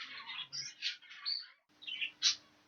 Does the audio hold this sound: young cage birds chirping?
yes